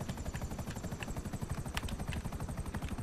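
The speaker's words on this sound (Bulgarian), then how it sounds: "Виждам хеликоптер." Helicopter in a video game, a steady rapid rotor chop with a dense low thumping pulse and engine whine, sustained and fairly close with no talk over it.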